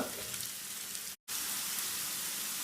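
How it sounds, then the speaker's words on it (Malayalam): Bananas fry in ghee over a medium flame with a soft, even sizzle like fine rain. A brief silent gap cuts in partway through. "ഈ നെയ്യിൽക്ക് തന്നെ പഴം ചേർത്ത് കൊടുക്കാം ഇതൊന്ന് നന്നായിട്ട് വാടണ വരെയും ഇതിങ്ങനെ മീഡിയം തീയിലിട്ട് കൊടുക്കുക"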